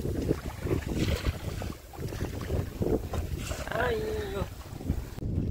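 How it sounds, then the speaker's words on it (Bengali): Strong wind gusts rumble and buffet across a fishing boat on rough water in the Sundarbans. The sound is loud and close throughout, with brief voice-like sounds in the background. "হাওয়া হচ্ছে খুব জোর।"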